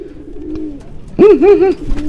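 A male pigeon at a bird market coos in courtship, a low soft murmur followed by two or three louder rolling, warbling coos, close and clear without voices.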